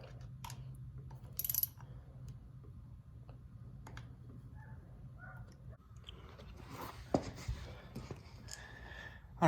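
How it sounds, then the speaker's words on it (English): Faint metallic ticks and small ratcheting clicks of an 8mm wrench loosening bolts on a Kawasaki KLR 250 during an oil change, scattered irregularly over a low steady hum, with a louder clatter near the start. "we're gonna go ahead with a 8mm on here. Pop these bolts off."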